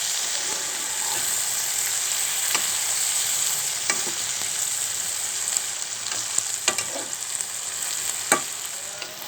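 Bitter gourd (karela) with a little turmeric frying in a pan, a steady close hiss of sizzling oil with occasional stirring clicks and scrapes throughout.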